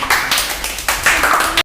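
Audience applause fills a class gathering at an English speaking class, a dense burst of clapping from a roomful of people that swells in waves and cuts off abruptly after under two seconds.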